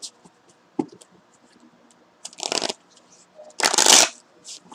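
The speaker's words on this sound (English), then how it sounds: "One more shuffle, y'all." Tarot cards are handled and shuffled by hand, with a few small taps and rustles followed by two louder riffling bursts near the end.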